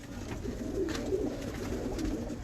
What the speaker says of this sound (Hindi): टैडी कबूतर है